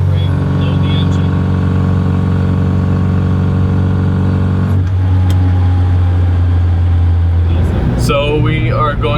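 A Mini's engine runs steadily at about 2,500 RPM, loaded against the applied parking brake, giving a continuous droning hum. The pitch holds even and drops lower near the end, when a voice starts to speak over it.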